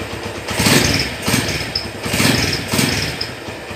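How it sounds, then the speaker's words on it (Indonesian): A 2008 Honda Tiger special edition motorcycle idles up close, its engine giving a steady, slightly uneven pulsing rumble with a light rhythmic ticking and no voices. "tirnya ketara banget ya, khas suara dari Tiger 2008 nih."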